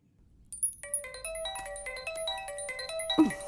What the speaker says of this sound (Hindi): फोन कब से बज रहा है, उठा क्यों नहीं रही है?